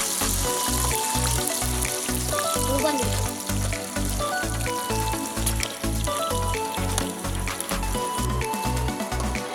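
Banana chips deep-fry in a pan of hot oil, a dense bubbling crackle heard up close over a loud, steady rhythmic thumping beat.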